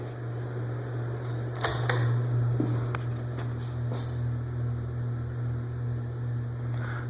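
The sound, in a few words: bathroom ceiling fan humming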